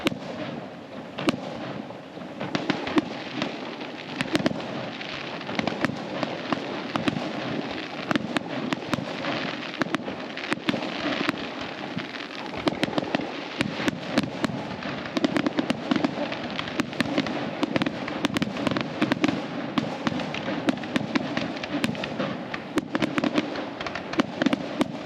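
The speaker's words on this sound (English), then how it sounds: "So right now I'm on my way to the Hilton fireworks, which is every Friday at 7:45." The weekly Friday night Hilton fireworks show at Waikiki, Oahu, pops and crackles in a dense, continuous barrage of booms and rapid bursts. It carries on across open outdoor air.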